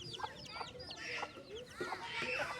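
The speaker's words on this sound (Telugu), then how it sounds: "ఈ కోడి చూడండి ఫ్రెండ్స్" Several chickens cluck repeatedly nearby in short, busy bursts, with overlapping calls and soft background noise.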